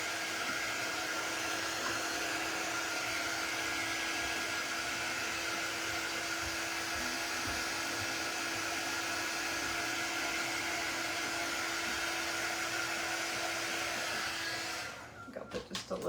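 A hair dryer blows a loud, steady whir to dry a coat of paint on strawberry craft decor, running unbroken for about fifteen seconds before switching off.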